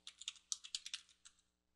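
Quick burst of about a dozen key presses on a computer keyboard while a password is entered at a login prompt, light close clicks in an uneven run that trails off, alone in a quiet room.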